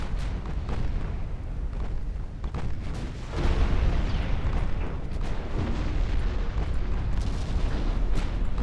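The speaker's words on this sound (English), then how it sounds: "almost one of the first shots on that light cruiser immediately knocked out half of its torpedoes" Naval guns fire in the warship game Ultimate Admiral Dreadnoughts, heard as a dense roll of deep booms and rumbling blasts. The barrage grows heavier partway through, and no one speaks.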